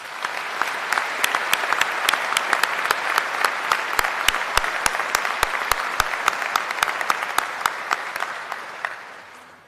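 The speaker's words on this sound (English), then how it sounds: "Please give them a round of applause." Sustained applause from a commencement audience at a health sciences university graduation, many hands clapping steadily for nearly ten seconds before fading at the end.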